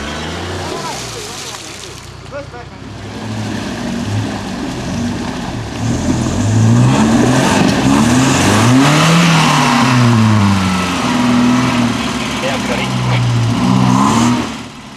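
A 4WD engine revs hard in deep mud during a Mud Rhino off-road run, the pitch climbing and falling in repeated surges that peak loud and close, with voices talking over it.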